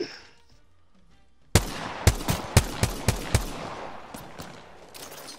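After a quiet lead-in, a burst of gunfire erupts in an Apex Legends match, a rapid series of loud, sharp shots followed by a few more scattered reports, with no talking over it.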